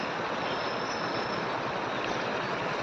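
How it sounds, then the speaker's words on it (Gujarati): Water pours from a spout at the Sandhida Mahadev temple, making a steady, close, hissing rush that stays even throughout with no voices. "જો આપ જોઈ રહ્યા છો પાણી નીકળી રહ્યું છે ધારમાંથી"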